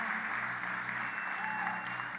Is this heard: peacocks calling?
no